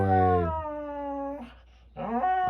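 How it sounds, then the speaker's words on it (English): Dog named Dinko whimpering and howling up close, long drawn-out tonal wails that waver and break, a short pause, then another rising howl. "Good dog."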